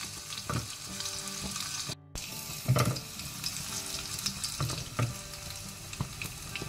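Crushed garlic cloves are added to hot oil with popping mustard seeds for a Mangalorean chana sukka, giving a continuous close sizzle of frying with scattered crackles and pops and a brief break partway through.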